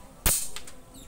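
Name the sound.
air rifle shot with slug in strong wind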